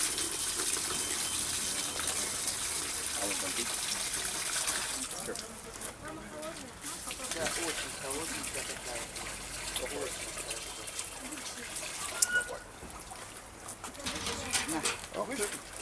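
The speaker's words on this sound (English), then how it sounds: "She is going to fill her water bottle with the St. Paul's water." Well water from St. Paul's well gushes and splashes as it is poured from a bucket into a water bottle, a steady rushing pour that eases into lighter trickles, with people chatting nearby throughout.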